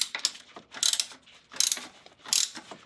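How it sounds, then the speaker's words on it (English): Close ratchet clicking in four quick bursts as a 12 mm bolt is loosened on a 1999 Acura RL, crisp metallic pawl rattles with short pauses between strokes; no voice. "So we need to loosen our bolts first. I'll start with this top bolt."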